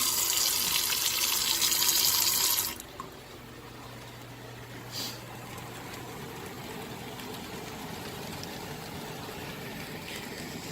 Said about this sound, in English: now I'm going to go ahead and fill each can up with water